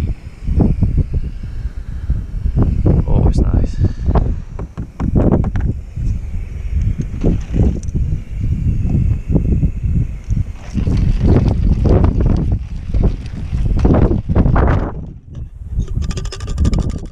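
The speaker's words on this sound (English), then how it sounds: "As you can tell, it's windy." Strong, gusty coastal wind near John O'Groats roars loudly across the microphone in repeated surging blasts, with short lulls between them and no talking.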